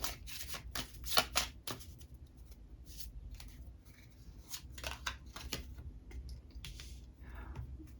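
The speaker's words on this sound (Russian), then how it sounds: "И сразу тогда буду открывать карты." Divination cards are handled and flipped over on a table during a zodiac reading, a series of close, soft papery slaps and rustles in irregular clusters, with no talking.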